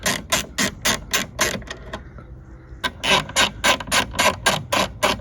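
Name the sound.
hand ratchet removing taillight fastener on Audi S5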